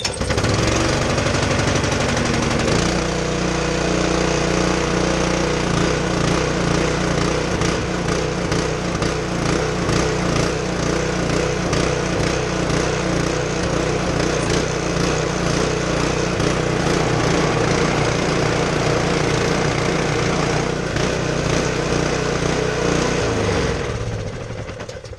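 A Honda Harmony HS520 snow blower's small engine runs after a tune-up, starting with a sputter and then holding a loud, steady, rattling idle close by for over twenty seconds before cutting off.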